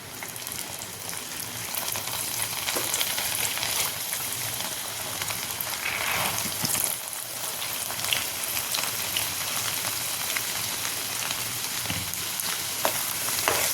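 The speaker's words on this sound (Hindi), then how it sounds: "तेल गर्म रहे तभी डालें, नहीं तो दाल नीचे बैठ जाएगी।" Soaked chana dal frying in hot oil for a crispy snack gives a loud, steady, rain-like crackling sizzle throughout, close up, with occasional stirring scrapes and light knocks.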